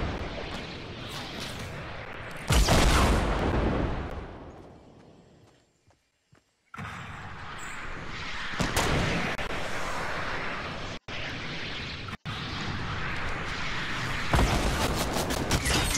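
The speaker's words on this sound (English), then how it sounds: "Two incoming rockets." Rocket explosions in the Fortnite video game: loud broadband blasts with rumbling decay, a sharp burst near the start, a brief dropout to near silence, then more booming impacts and crackling debris.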